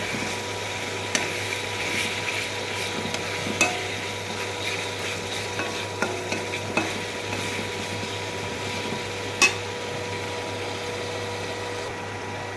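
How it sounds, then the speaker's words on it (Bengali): Steady sizzling of ground spices (coriander, cumin, turmeric) frying, with occasional scraping stirs and a few sharp clinks, close and continuous, no voices. "জিরার গুঁড়া দিব, হলুদ গুঁড়া দিব, মশলা ভেজে নেব।"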